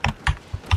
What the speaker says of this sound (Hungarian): én gépelem a csetet